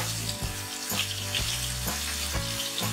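Tomato and chopped onion hit hot oil seasoned with black cumin seeds for a fish curry, giving a steady, close sizzle that holds for the whole stretch with faint tonal hum behind it.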